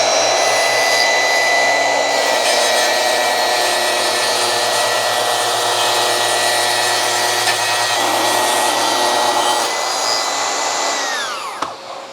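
A Festool TS 60 plunge cut saw runs through wood in one loud, continuous whine with a steady hum beneath, then spins down and stops near the end; no talking.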